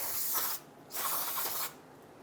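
Solvent sprays from an aerosol can onto leaked brake fluid near the rear center brake hose of a 2002-2008 Dodge Ram 1500, two steady hissing bursts with a short pause between, close and alone.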